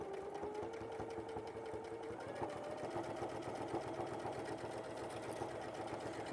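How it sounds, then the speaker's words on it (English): A sewing machine runs continuously in a steady, even rhythm, heard close and moderately quiet throughout the short stretch. "And we're just going to sew along."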